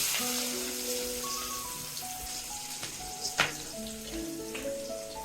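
Chopped onion fries in oil with bay leaf for a Bengali crab curry, a soft continuous crackling sizzle at low level with scattered pops and a couple of brief clinks from stirring, no voices.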